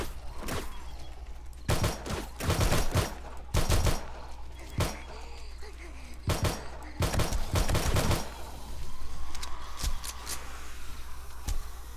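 Sludge turret firing during horde night in 7 Days to Die Darkness Falls: sharp, rapid shots in irregular clustered bursts with short gaps, fairly loud against a low background rumble.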